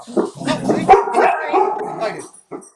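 Several excited pet dogs barking and yipping indoors, close and loud, a burst of overlapping barks with a short whimper, followed by a brief final yip after a pause.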